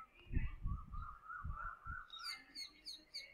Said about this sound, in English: The tropical bird sound